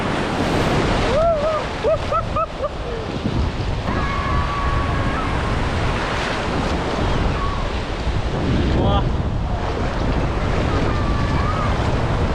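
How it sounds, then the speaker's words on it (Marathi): Ocean surf at Murud roars and washes in continuously, heavy with wind buffeting the microphone, and voices call out faintly over the waves. "ही बघा अजून एक मोठी लाट आली"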